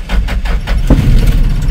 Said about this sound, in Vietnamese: Đó, nổ máy.